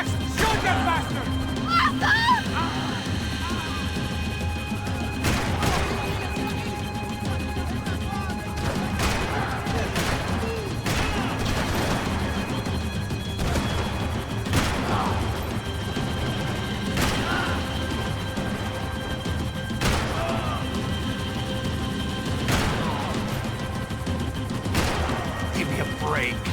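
Max Payne 3 game gunfire: repeated sharp single shots and short bursts scattered over a long stretch, with engine rumble and shouted voices running underneath throughout.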